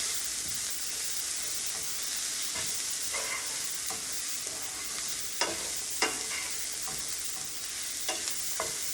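Garlic, bacon and shallots fry in a pan outdoors, a dense continuous sizzle broken by repeated scraping stir strokes and light clinks, with no talking.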